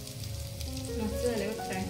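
Prawns fry with a little garlic in a pan, giving a soft, steady sizzle close by with faint stirring and hum in the background.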